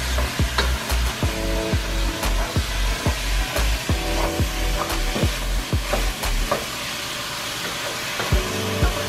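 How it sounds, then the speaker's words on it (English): Meat and vegetables for baked spaghetti sizzle loudly in a pan while being stirred, a constant frying hiss broken by regular scraping strokes of the utensil, close up and without talk. "I'm gonna continue to stir the meat and the vegetables."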